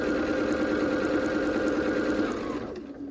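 A sewing machine runs fast stitching a quilt seam, a continuous whirring buzz that slows and winds down near the end as the stitching stops.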